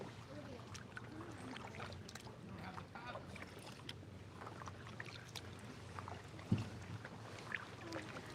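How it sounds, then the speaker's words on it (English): Kayak or canoe paddling on a clear freshwater spring in Florida, with a steady low wash of water and soft paddle strokes throughout, plus a couple of brief knocks near the end. "We're paddling on a freshwater spring here in Florida today."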